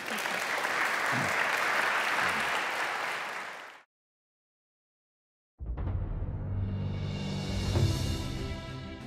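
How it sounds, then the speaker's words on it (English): A conference audience applauds a panel after a discussion, dense clapping for nearly four seconds that ends in silence before music begins. "Can we have a big round of applause for them?"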